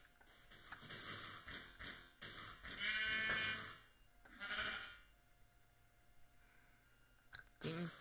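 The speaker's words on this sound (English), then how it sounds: "Sheep." Sheep bleating in the Minecraft video game, several short wavering bleats in a row, fairly close, with a few clicks and taps between them.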